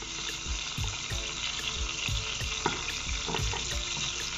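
Onions and green pepper frying in olive oil in a home kitchen, a constant crackling sizzle close by with a steady rhythmic tapping running through it and no speech.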